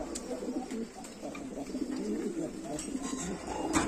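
Large opal-coloured Sirazi pigeons coo softly and repeatedly at a moderate distance, with low throaty calls recurring through a busy background murmur.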